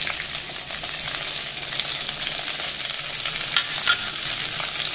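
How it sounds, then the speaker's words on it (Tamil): Okra, capsicum, green chilli, tomato, curry leaves and brinjal sautéing in oil for kathamba sambar, a steady close sizzle with occasional stirring scrapes, no talk. "இது எல்லாத்தையும் நம்ம எண்ணெயில் போட்டு கொஞ்சம் வதக்கிக்கிறோம்"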